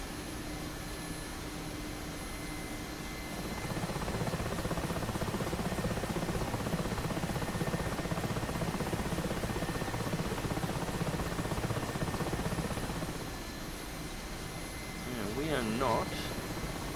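A Mi-8MTV2 helicopter's rotor and turbine engines drone steadily in DCS World, swelling into a louder, fuller roar through the middle before easing back, and a voice is heard near the end.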